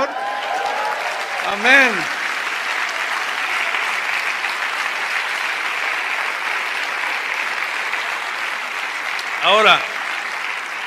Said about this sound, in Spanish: ¿No le dan un aplauso al Señor?